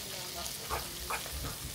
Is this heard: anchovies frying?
yes